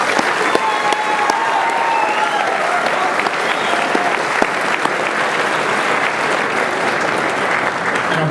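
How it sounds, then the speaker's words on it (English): A crowd claps steadily in sustained applause, a dense wash of hand claps that holds at an even level throughout. "please, everyone give a round of applause for that."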